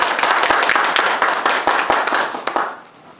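Audience clapping at an indoor reception, a small crowd's hands clapping in a brisk uneven patter close by, then stopping abruptly near the end.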